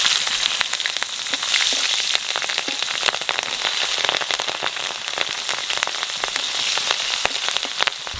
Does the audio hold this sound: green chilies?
yes